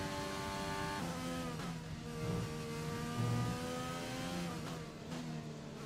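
An F1 race car in the F1 2020 video game, on soft tyres at the Hungarian Grand Prix, revs hard with its engine pitch rising and falling through gear changes, steady and loud with no talk over it.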